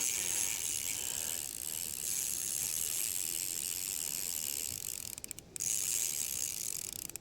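A Daiwa 500C fishing reel's drag spins steadily as a fish pulls line off, a continuous fast buzzing ratchet, close and loud, with a brief dropout near the end and no talk.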